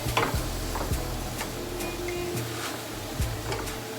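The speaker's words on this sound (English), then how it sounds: "Now that that shrimp is already in there, we're gonna go ahead and stir this." Shrimp and cauliflower rice sizzle in a hot pan while being stirred, a steady frying hiss with low rumbling and periodic scraping strokes of the utensil, and no talking.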